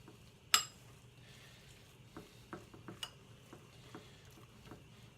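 Namul, a Korean vegetable side dish, being mixed in a bowl: one sharp clink, then soft, scattered taps and stirring sounds over a quiet background, with no voices.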